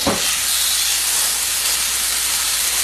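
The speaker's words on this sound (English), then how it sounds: "So I'm going to put my steak right on there. It's going to sizzle as we put it in." Beef steak sizzling in a hot pan gives a loud, steady broadband hiss that begins with a sharp burst as the meat hits and holds evenly, no voices.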